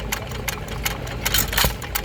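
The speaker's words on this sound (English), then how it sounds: "Beautiful hit and miss engine." A 1927 Fuller and Johnson hit and miss stationary engine, rated around 1 to 1.5 horsepower and mounted on a trolley at an outdoor show, chuffs steadily close by with repeated firing beats and a rhythmic mechanical clatter.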